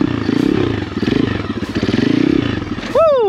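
A cheap Amazon dirt bike engine revs in a choppy, pulsing rhythm as the rider rolls into a wheelie attempt, loud and close, ending with a sharp rising squeal-like whoop.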